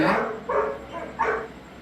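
A dog gives a few short, muffled barks, three or four spaced across a couple of seconds at moderate distance.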